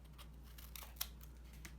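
Scissors snip paper in a few quick, crisp cuts while shaping a flower for a woven bracelet craft, close and fairly quiet over a low steady hum.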